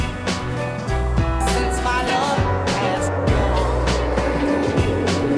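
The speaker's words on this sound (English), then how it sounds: "I don't know if you can hear the road traffic" Road traffic on a busy road rolls past, a steady wash of engine rumble and tire noise with several vehicles swelling by one after another.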